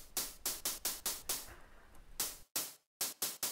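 FM synthesized snare drum with no volume envelope, a series of sharp noisy hits in an uneven rhythm, each with a bright hissy body, close and quiet, one longer sustained hit and a short silence midway.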